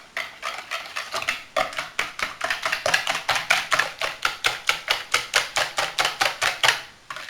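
Cake batter with apple compote, salt and other ingredients being mixed in a bowl, a steady run of rhythmic scraping strokes at close range, quickening and growing louder toward the end, with no talk.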